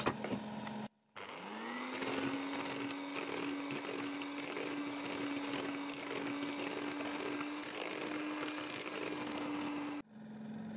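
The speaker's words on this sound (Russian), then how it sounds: "Муку добавляем постепенно в смесь и затем перемешиваем на малых оборотах миксером." An electric hand mixer runs steadily at low speed, beating cake dough for a curd cheese pie in a home kitchen. Its whirring motor hum starts up after a brief pause, holds for about nine seconds, then stops.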